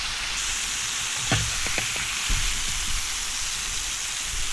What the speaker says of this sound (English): The ribeye's cooking up pretty nice